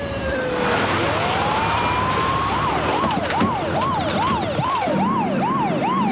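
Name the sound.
ambulance siren approaching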